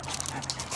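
A dog gives a brief, soft whimper close by, a single short vocal sound lasting under a second over a quiet room background.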